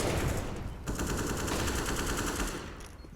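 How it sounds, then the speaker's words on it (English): Sustained automatic AK-47 fire in a Counter-Strike match on Inferno, a dense, loud stream of rapid shots that runs almost continuously and tapers off near the end. "There goes the AK-47."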